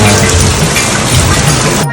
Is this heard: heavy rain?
yes